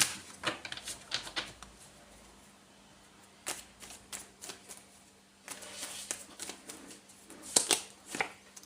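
Light Seers Tarot cards being shuffled by hand, soft papery riffles and taps in irregular bursts with quiet pauses between, close and fairly faint.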